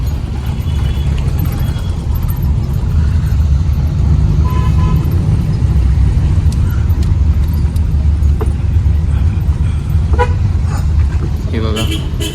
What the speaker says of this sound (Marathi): रिक्षा आलेल्या आहेत, रिक्षा करून लोक चालली, बाईक घेऊन